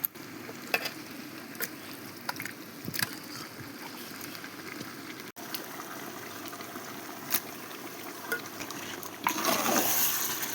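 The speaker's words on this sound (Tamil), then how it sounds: "சுத்தம் பண்ணி வச்ச சிக்கன் சேர்த்துக்கலாம்." Four kilograms of cleaned chicken added to a large biryani pot, a continuous low sizzle and bubbling with scattered clinks and stirring knocks, swelling louder toward the end.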